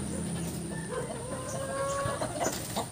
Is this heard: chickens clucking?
yes